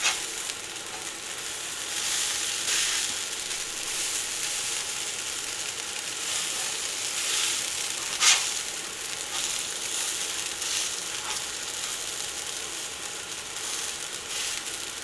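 Hash browns sizzling in a pan just after being flipped, a continuous close frying hiss with light clicking spatula or pan contact and one sharp clack midway.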